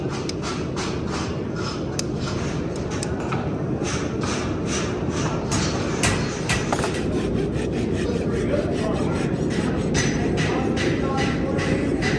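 Trimming a horse hoof with a deep, infected crack, a continuous rough rasping and scraping in steady rhythmic strokes, loud and close throughout.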